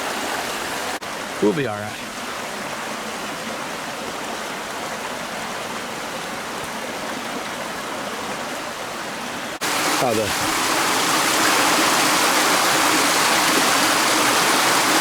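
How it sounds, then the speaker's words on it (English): Stream water trickling beneath ice at Buck Hollow Conservation Area by the Jack's Fork River in Missouri, a constant rushing wash that grows louder near the end, with a few brief spoken words early on. "still the water moves under these, trickles down under the ice"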